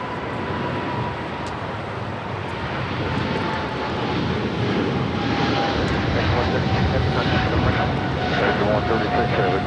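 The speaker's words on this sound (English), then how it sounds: "That is American Airlines Flight 136 taking off to London Heathrow on a 777-300ER" An American Airlines Boeing 777-300ER roars down runway 25 right at Los Angeles International Airport on its takeoff roll, a loud, sustained jet rumble that builds slightly, with a thin whine running through it.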